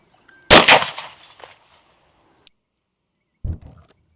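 A 9mm Pilgrim ammunition round is fired into a ballistic gel block at a shooting range: one loud, sharp, close report with a ringing decay, then a softer, shorter burst about three seconds later.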